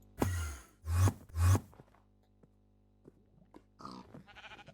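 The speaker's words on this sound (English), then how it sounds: "let's see if we can find a sheep" Sheep in Minecraft on the Enigmatica 2 modpack give three short, close bleats in quick succession, followed by a near-silent pause and a few faint, softer game sounds.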